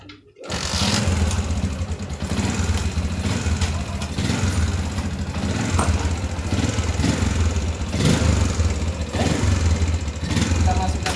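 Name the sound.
Jupiter MX motorcycle engine running during clutch test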